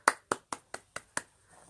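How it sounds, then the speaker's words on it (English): A single person clapping six crisp, evenly spaced claps close to the microphone, then a faint soft trailing sound. "Clap your hands if you believe in fairies."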